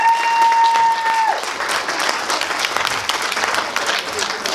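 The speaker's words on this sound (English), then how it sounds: "Can we give the Deputy Lieutenant a nice round of applause as she leaves," An audience at an equality, diversity and inclusion awards ceremony in Luton applauds, sustained even clapping from a crowd that fills the room, a brief tone fading early on, and no one speaking over it.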